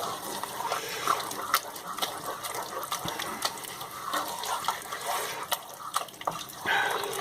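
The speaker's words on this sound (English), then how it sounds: "now, just give all that a big stir" Bolognese sauce is stirred in a pot with a wet, sloshing, gurgling sound and occasional clinks, close and moderately quiet, with no talking.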